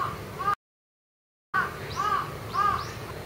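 A crow caws several times in harsh repeated calls over a steady background hiss, with a brief dropout of silence early on, outdoors in Japan.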